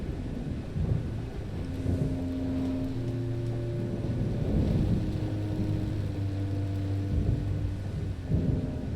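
A thunderstorm overhead in a vampire survival video game, with deep rolling thunder rumbling steadily over a constant wash of rain and wind, fairly loud and unbroken, with no talking.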